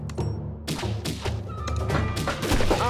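A rapid volley of sharp thunks and impacts as archer towers fire in Kingdom Rush, several shots clustered in bursts over game music, fairly loud and close.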